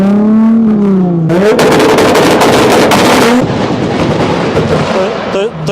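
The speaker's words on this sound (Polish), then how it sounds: "To jest coś niebywałego, jak głośny jest ten wydech." A Toyota Supra with a very loud exhaust roars about fifty metres away at a car show, a sharp, crackling burst of revving that swells over crowd noise and a voice, then settles back into a steady rumble.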